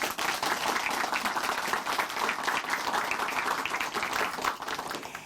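Steady applause from a Christian TV show audience after a testimony, many hands clapping at moderate volume without pause.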